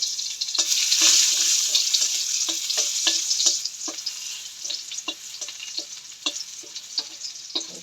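Crushed garlic sizzles in a pan with salt, green chillies and onion, a steady frying hiss broken by repeated sharp stirring scrapes and clicks throughout.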